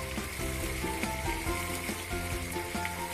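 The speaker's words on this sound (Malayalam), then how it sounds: "1 പച്ചമുളക് ചേർത്ത് 1 മിനിറ്റോളം ഒന്ന് വഴറ്റാം." Green chilli and spring onion sauté in hot oil in a pan, giving a steady, close, busy sizzle throughout. Soft tonal music plays underneath.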